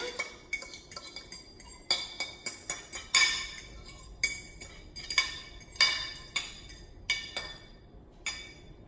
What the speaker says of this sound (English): And then we mix it all up